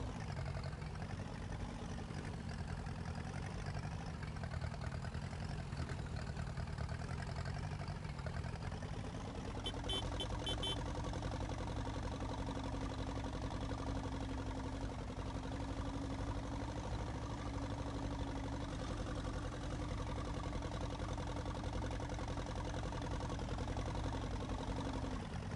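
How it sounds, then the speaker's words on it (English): A small tractor idles in Farming Simulator 19, a steady low mechanical drone that shifts slightly in pitch partway through, with a brief faint chime-like tone over the hum. "I love this though. Look at it, little tractor."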